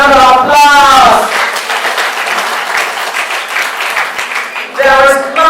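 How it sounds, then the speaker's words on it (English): A big round of applause at a women's league celebration in Lagos, loud sustained clapping from a crowd filling the whole stretch, with a voice over the sound at the start and end. "Please, another big round of applause."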